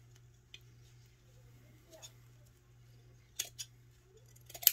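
Scissors snip through sweater fabric just below a collar seam, giving a few soft, quick cuts in a quiet room.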